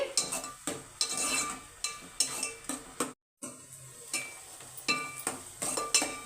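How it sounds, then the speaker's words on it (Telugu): Chopped onions fry in a pan for a chicken curry while a spoon stirs them in repeated scraping strokes over a bright, steady sizzle, with brief clinks against the pan and no talking. "ఆనియన్స్ అనేది చిన్న బ్రౌనిష్ వచ్చినంత వరకు కూడా ఫ్రై చేసుకోవాలి"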